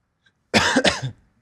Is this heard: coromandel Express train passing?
no